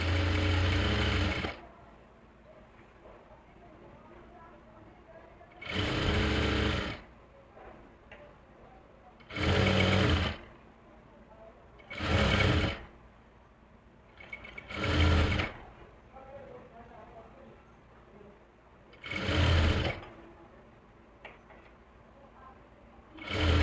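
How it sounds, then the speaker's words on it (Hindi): A sewing machine stitches a women's trouser pant waistband in six separate short bursts, each a loud rapid mechanical clatter lasting about a second, with quiet pauses between them. "एक पैर के गैप से सिलाई लगाएंगे।"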